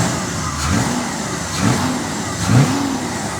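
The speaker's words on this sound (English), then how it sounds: "300 horsepower V8 engine. 327 small block in a C2 Corvette is just about the most perfect engine combo you could have had in this car." A maroon 1966 Chevrolet C2 Corvette with a 300-horsepower 327 small-block V8 and a four-speed revs three times from a low idle, each blip rising and falling in a steady rhythm, close by with no voices.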